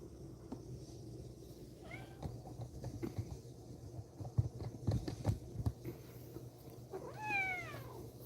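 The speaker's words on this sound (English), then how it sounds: "Look at my cat, Bruno." A pet cat gives two drawn-out meows, one early and a louder one near the end, over low room hum with soft thumps and handling noise, and no speech.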